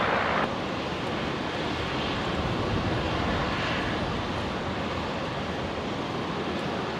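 A Jetstar airliner landing on runway 19 left at Brisbane International Airport, a continuous broad roar of jet engines and rushing air, steady and moderately distant, with no voices.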